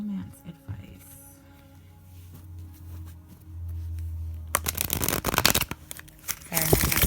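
A deck of tarot cards is shuffled by hand in quick bursts of riffling and flicking near the listener, with quieter handling beforehand and soft speech in the background.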